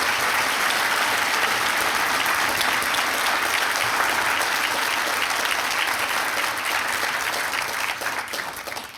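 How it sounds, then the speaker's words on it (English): A banquet audience gives a sustained round of applause, dense and loud, holding steady for several seconds before tapering slightly at the end. "let's give them a round of applause"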